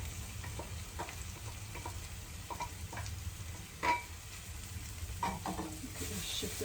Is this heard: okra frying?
yes